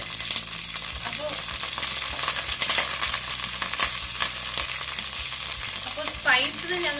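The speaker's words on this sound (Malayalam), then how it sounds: "എണ്ണ ചൂടായിട്ടുണ്ട്. ഇതിലേക്ക് ഞങ്ങൾക്ക് കറിവേപ്പില ചേർക്കണം. അപ്പോൾ ഞാൻ 2 തണ്ട് കറിവേപ്പില ചേർക്കുന്നുണ്ട്." Curry leaves and green chillies sizzle and crackle in hot oil in a pan, a continuous close frying hiss with occasional stirring scrapes and a brief louder burst near the end.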